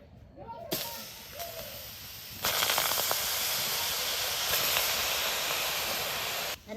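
Silk cotton flowers drop into a hot wok on a clay stove and hiss loudly in bursts, then settle into a sustained sizzle with faint clatter before cutting off.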